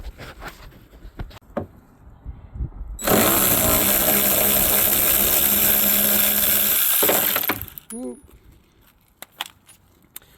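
A power screwdriver whirs continuously for about four seconds while removing Torx T25 screws from the rear lights of a Ford Fiesta ST150, with light clinks and handling noise before and after; a person speaks briefly.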